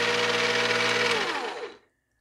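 A brand-new Gtech SW22 rechargeable sweeper runs with a loud, steady whirring motor and brush buzz, close up and alone, then winds down and falls silent after about two seconds.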